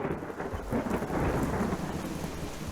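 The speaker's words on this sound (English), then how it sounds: "At 6 p.m., a brief but violent hailstorm would begin." A violent hailstorm with thunder and rain, a dense, steady roar of pelting precipitation with low rumbling thunder underneath, loud and continuous throughout.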